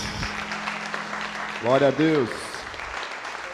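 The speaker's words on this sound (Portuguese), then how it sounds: "Você pode aplaudir mais uma vez." A church congregation applauds with a steady wash of clapping throughout, while a voice calls out briefly over it partway through.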